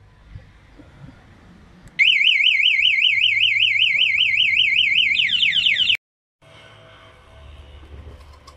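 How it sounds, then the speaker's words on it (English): Aftermarket security alarm on a Bajaj Avenger 220cc motorcycle sounds a loud warbling electronic siren for about four seconds, switching to a faster chirping pattern before cutting off abruptly, with quiet background before and after. "By pressing the search button, activates the alarm."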